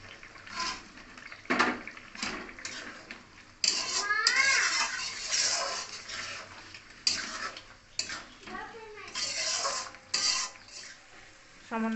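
Water and eggs go into a cooking pan in a home kitchen, with clinks of utensils against the pan and stirring, punctuated by brief sizzling bursts, while someone talks and a voice is heard.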